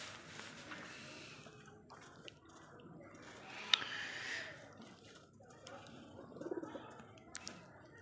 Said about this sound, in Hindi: ये लक्का कबूतर है